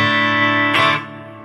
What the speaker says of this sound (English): Another reverb.